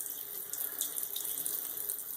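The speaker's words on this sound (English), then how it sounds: "Get a little hot water up here." Hot water runs steadily from a bathroom sink tap during a wet shave with a modified Gillette Ball End Tech razor, a continuous close hiss with no talk.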